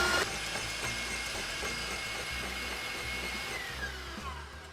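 An electric mixer creams butter and brown sugar substitute in a bowl, a steady loud whirring motor drone that runs unbroken from start to finish with no voices.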